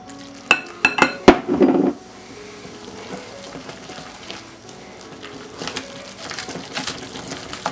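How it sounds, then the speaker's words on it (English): Corn fritter batter stirred with beer in a mixing bowl, with a few sharp clinks of the utensil against the bowl early on, then soft, steady wet stirring and scraping. "I'm going to add about half the beer and mix this up"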